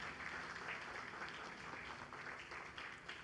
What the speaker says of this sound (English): let us give Father a very big round of applause